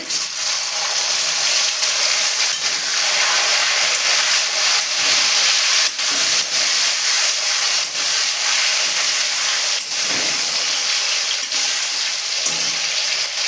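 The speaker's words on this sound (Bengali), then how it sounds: "তার মধ্যে টমেটো কুচি" Chopped tomato hits a hot pan already holding fried dried chillies, cumin and bay leaves, setting off a loud, continuous sizzle and steamy hiss with occasional stirring scrapes, close and without voices.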